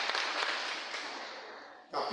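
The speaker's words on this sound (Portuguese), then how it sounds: "Vamos aplaudir a Deus pela vida do pastor Felipe." A church congregation applauds in a long, steady wash of clapping that slowly fades, then picks up again briefly at the end.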